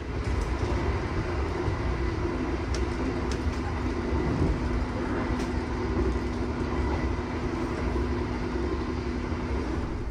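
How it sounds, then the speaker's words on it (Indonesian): A steady, loud rumble of the Argo Bromo Anggrek passenger train moving after leaving Bojonegoro station, wheels and carriage noise droning evenly with faint squeaks and clicks throughout. "Kereta api Argo Bromo Anggrek yang saya naiki sudah diberangkatkan kembali dari stasiun Bojonegoro."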